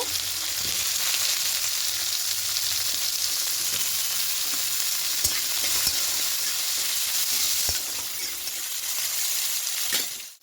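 Eggplant frying in a pan with chopped onion, making a loud, steady hiss of hot oil with scattered clicks of stirring that drops away abruptly at the end.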